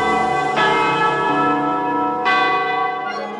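Church bells ring in a loud, sustained peal, with a fresh strike at the start and another about two seconds later, their resonant overtones ringing out continuously with no voices.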